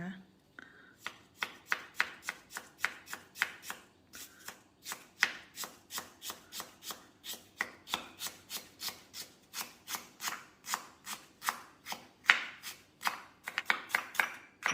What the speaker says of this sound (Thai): ขิงนี่หั่นเขาเป็นแว่นบาง ๆ ก่อนนะคะ แล้วค่อยมาหั่นเป็นชิ้นเล็กๆนะคะ